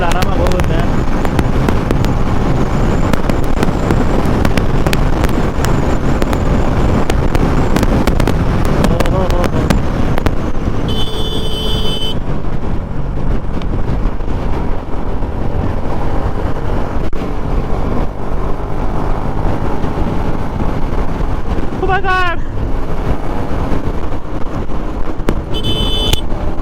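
A vehicle rolls along on a monsoon ride toward Sakleshpur, its continuous road and engine rumble buffeted by heavy wind noise while people talk over it.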